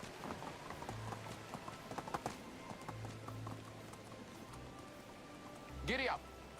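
Horse hooves clip-clop in the video game Medieval Dynasty, a soft irregular run of clopping steps under faint rain-like background noise, ending with a brief higher-pitched sound.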